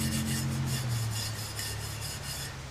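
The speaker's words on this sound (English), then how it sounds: "So I'm going to run over this, and it takes off all the little flakes of corrosion and stuff." Steady abrasive scrubbing on a pre-WW1 aluminum canteen, rubbing off flakes of corrosion, a continuous rasping with rhythmic back-and-forth strokes, close and moderately loud with no voices.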